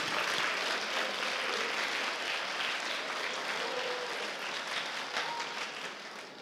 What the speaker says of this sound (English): Yeah, big round of applause.